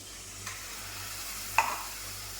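A steady sizzle of spiced masala water hitting hot oil, with a sharper burst of crackling midway and a brief stirring clink, no voices.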